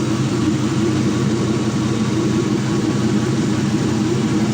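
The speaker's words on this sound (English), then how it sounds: "See, about a 700 RPM idle." Steady idle of a 4.8L Gen3 V8 engine at about 700 RPM, a continuous even rumble with a low hum underneath, close and constant throughout.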